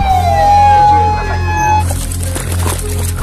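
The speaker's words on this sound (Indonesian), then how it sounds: "pemadam kebakaran" A fire engine siren in a video game wails loudly with a falling pitch over a low engine drone, then gives way to a noisier, crackling stretch.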